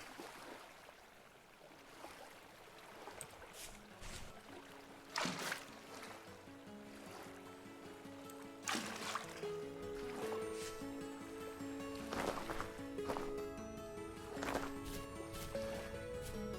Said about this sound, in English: That's what we want. Tranquil water sounds.